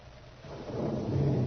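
Radio-drama thunderstorm sound effect, a low rolling rumble of thunder that swells and grows louder through the short stretch, with faint rain-like hiss behind and no voices.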